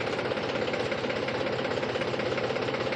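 A tractor engine idles close by with a steady, low mechanical chug and even knocking rhythm, a moderate continuous hum with no voices over it.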